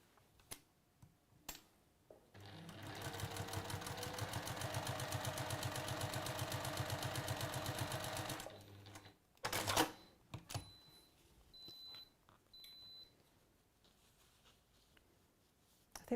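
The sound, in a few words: sewing machine stitching fabric pieces together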